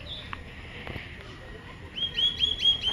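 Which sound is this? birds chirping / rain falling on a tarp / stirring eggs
birds chirping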